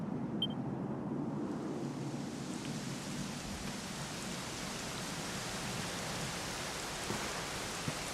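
Steady, dense rainfall in the video game Dragon Quest 11 S fills the scene, a continuous hiss of drops with a low rumble underneath, constant and fairly loud throughout.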